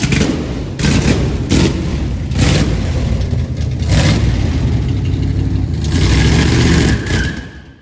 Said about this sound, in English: Might as well see if it'll do a burnout at this point.